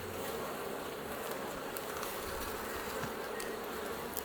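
Honey bees buzz steadily around an open beehive during a hive inspection, a dense continuous drone close up with individual bees whizzing past.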